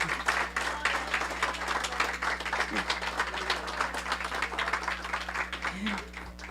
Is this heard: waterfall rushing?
no